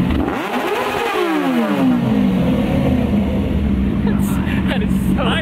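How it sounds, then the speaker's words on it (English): Two motorcycle engines rev hard together to redline, pitch sweeping up to a loud, sustained high scream, with voices faintly under the roar. "what they both sound like redlining at the same time"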